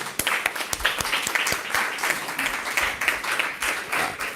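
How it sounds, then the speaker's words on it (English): A crowd applauding steadily, with dense overlapping claps that hold at an even, fairly loud level throughout. "could we just give St. Lucia a round of applause for that?"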